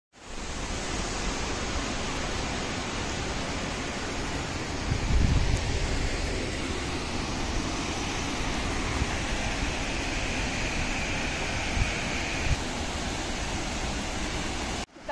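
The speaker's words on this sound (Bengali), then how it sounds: "আর এই দেখো, দেখো সীতা ফলসের জল তো বর্ষার সময় দেখে কিন্তু এত সুন্দর" Sita Falls near Ranchi during the monsoon season, a steady broadband rush of falling water heard close and loud throughout, with no talk over it.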